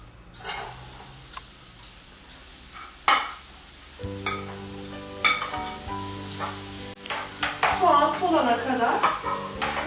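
Chopped onions sizzle and crackle in a hot pan, with a few utensil clicks and stirring sounds; the frying grows busier toward the end.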